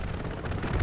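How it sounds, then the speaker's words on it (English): Explosions from a strafing run in a multiplayer war video game roll out as a low, continuous rumbling boom, swelling louder toward the end of the short burst. "Oh, brutal strafing run."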